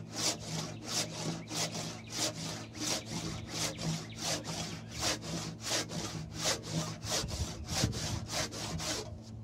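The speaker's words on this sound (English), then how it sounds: "I'm gonna get it started using the handsaw and then switch over to the one person crosscut saw" A handsaw cuts into a 6x6 timber frame beam with steady back-and-forth rasping strokes, about two per second, close and loud.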